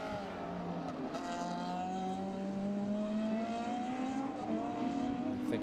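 Rallycross cars racing at Mondello Park in the British Rallycross Championship, engines droning and rising steadily in pitch as they power through a corner, a continuous loud roar with no gaps.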